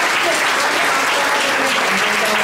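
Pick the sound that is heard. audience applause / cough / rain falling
audience applause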